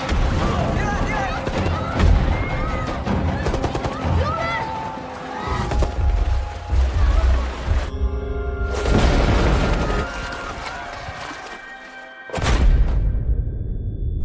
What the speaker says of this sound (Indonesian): Bom pun berjatuhan dan baku tembak pun terjadi.